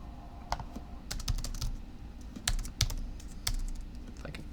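Computer keyboard typing while entering text into an online form: bursts of quick, close key clicks with short pauses between them, over a faint steady background hum and no talking.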